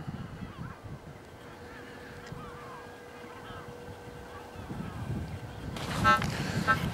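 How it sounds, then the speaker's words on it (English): Seagulls chasing swarms of flying ants call out in the distance, with scattered squawks heard under steady outdoor wind and someone talking, and a louder burst of noise near the end. "when the ants start to fly, the seagulls go after them"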